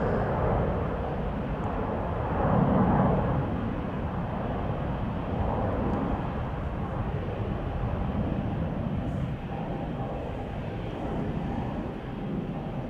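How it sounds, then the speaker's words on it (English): A KLM Embraer 190 jet departs Amsterdam Schiphol Airport with a continuous broad rumbling roar. The roar swells briefly early on, then holds steady at a fairly loud level, and no voices are heard. "This is a KLM Embraer 190 to Stavanger"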